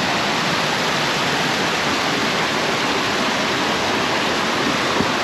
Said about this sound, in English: I'm just kind of walking up the water to the falls.